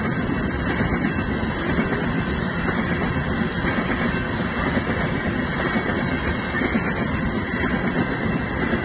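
BNSF locomotive #6017 hauls a coal train past at close range, a dense continuous rumble and rattle of rolling wagons holding steady throughout with no voices.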